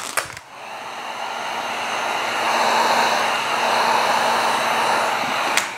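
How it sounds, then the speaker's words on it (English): A hot air gun blows steadily on vinyl wrap film being smoothed onto a Tesla Model Y panel, a continuous airy whoosh that holds for several seconds, with brief clicks as it switches on and off. "I'm going to apply some heat to get rid of any wrinkles"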